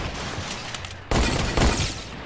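Video game gunfire erupts in two loud volleys after a quieter stretch of background noise.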